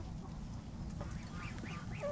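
Ducks kept inside a chicken coop give a few faint, brief nasal calls near the end over a low background rumble, quiet and somewhat distant, no speech.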